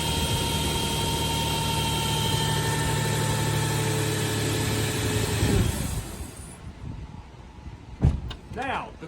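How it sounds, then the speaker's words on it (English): A 2007 Nissan Xterra SUV engine idles smoothly with an even hum for several seconds, then winds down and fades, followed by a few faint knocks and a short voice. "That's the smoothest running engine that really that I could brag about"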